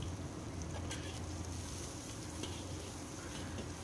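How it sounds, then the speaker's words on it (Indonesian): Dried mushrooms and dried shrimp stir-fried with spice paste in hot oil, a continuous crackling sizzle up close with faint scraping of stirring. "kita tumis sampai harum sama udang keringnya"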